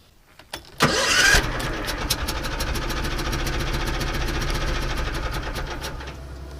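An Argo ATV engine cranks and catches, then runs on choke with a steady, rapid chugging idle close by.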